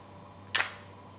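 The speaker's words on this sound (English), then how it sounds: "So I've got my finger held down on the shutter release button and the mirror won't drop down again until I let go." Nikon D300s DSLR shutter firing with the mirror held up, a single short, crisp close-up click with no return sound following, in an otherwise quiet room.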